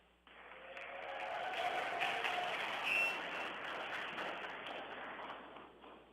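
A school audience at Carter G. Woodson Middle School in Hopewell, Virginia cheers for an astronaut aboard the ISS during a radio contact. The crowd noise swells from the start and holds steady as broad, moderately loud cheering and clapping, with no talk over it.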